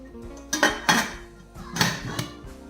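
A metal lid set onto an idli steaming pot during Kanchipuram temple-style idli preparation: a few sharp metallic clanks and clatters close by, two clustered hits early and another pair later, with no talk.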